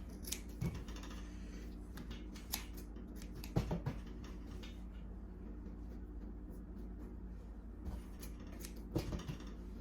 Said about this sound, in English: I usually cut like this little excess off.